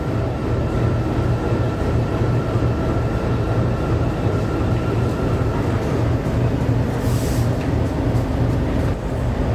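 Simanta Express passenger train heard from inside a carriage while travelling, with a steady loud low rumble and rolling noise throughout and a brief faint high hiss partway through.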